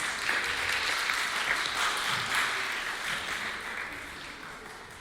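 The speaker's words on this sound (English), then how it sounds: "Can we give them a round of applause, please?" Congregation applause during a Sunday church sermon, steady crowded clapping at moderate volume that holds and gradually fades over a few seconds.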